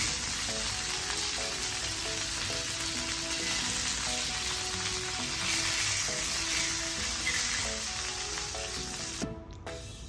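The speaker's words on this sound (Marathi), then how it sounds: "झाले आहेत आपले पापलेट तळून, आपण याला काढून घेऊया।" Pomfret fish frying in a pan gives a loud, steady sizzle that holds for about nine seconds, then cuts off abruptly near the end, with no voices over it.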